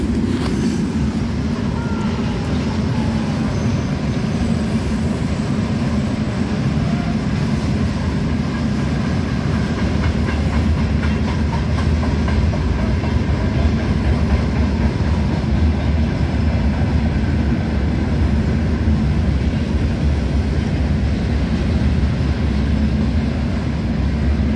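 Train passing, a continuous loud low rumble with steady broadband rushing noise that holds for over twenty seconds without letting up.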